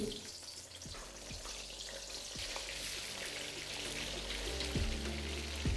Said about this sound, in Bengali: এবার আমি এখানে সর্বপ্রথম ফুলকপিটাকে ভেজে নিচ্ছি